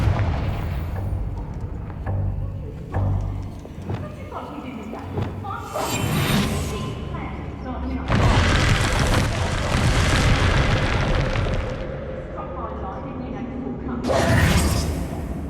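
Confringo blasting spells cast in the video game Hogwarts Legacy, several loud whooshing explosive bursts with rumbling booms amid dense game sound, with a voice talking over them.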